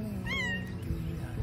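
A cat up in a tree gives a single clear meow, close and moderately loud, over a steady background murmur.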